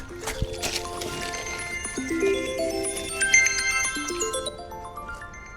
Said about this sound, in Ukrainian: телефон дзвонить